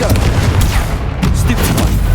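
Confringo fire-blast spell in Hogwarts Legacy, a loud, dense rumbling explosive burst filling the clip with crackling booms over a heavy low end, amid ongoing combat noise.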